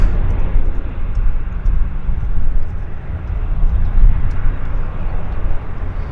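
A heavy airliner taking off at Vancouver airport, a loud, sustained broadband engine roar, close and continuous with no letup, in gentle breeze conditions.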